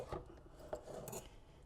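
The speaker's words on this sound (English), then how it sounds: "I am going to mix it up first with the fork." A fork scrapes and rubs through cooked herby pulao rice to mix and fluff the grains apart, giving a few soft, close rasping strokes with light clinks at low volume.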